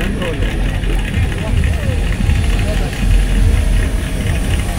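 A turbocharged valve-engine Moskvich drag racing car of about 400 horsepower runs with a deep, pulsing rumble close by, while someone talks over it.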